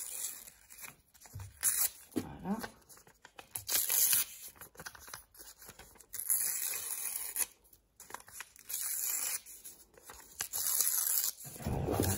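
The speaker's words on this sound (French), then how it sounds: "on va prendre le papier, je vais mettre ça ici, et on va déchirer les bords pour celui-ci" Paper has its edges torn off by hand in close, crisp rips that come in several separate bursts with pauses between, and one brief word is spoken near the end.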